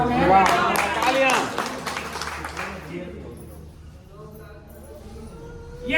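Brief hand clapping from a small group at a company meeting, mixed with talking voices, then fading out after a few seconds as speech continues alone.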